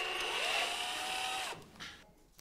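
A cordless drill-driver runs in reverse to release its bit, a steady whirring motor that holds for about a second and a half before spinning down and stopping, close by and alone.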